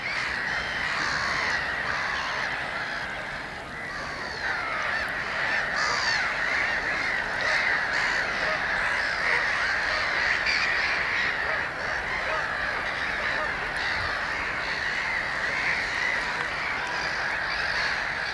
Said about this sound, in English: noisy neighbours. Black-headed gulls established themselves on the Scrape just 1 year after the Avocets began nesting here.